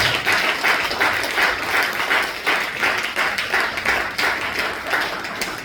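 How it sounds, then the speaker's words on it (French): A church congregation at a Sunday worship service applauds Jesus, with dense, steady clapping from many hands filling the room, rising and falling in waves, with some voices mixed in beneath. "Acclamons puissamment Jésus de Nazareth."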